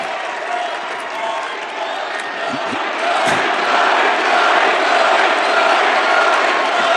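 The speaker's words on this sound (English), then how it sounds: "They're cheering an environmentalist." A large crowd at a Trump rally roars and cheers for RFK Jr., a dense, loud wall of voices that swells and grows louder partway through and keeps going without a break.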